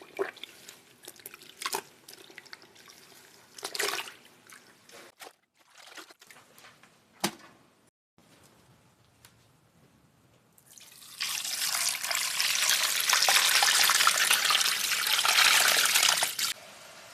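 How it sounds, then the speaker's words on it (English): Cold water, about 25 liters, is poured onto raw sheep's wool in a container. Scattered drips and handling knocks come first, then a steady, loud rushing pour that runs for several seconds before stopping. "I put on enough cold water to top the wool."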